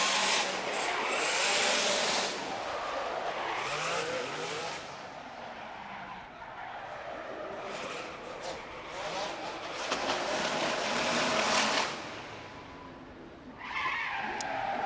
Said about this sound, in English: Let's listen to Fiorella, the F drifting team, the Pennzoil Ferrari.